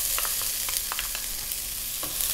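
Cumin seeds sputtering in hot oil in a pan, a steady close sizzle with a scattering of small crackles and pops over about two seconds.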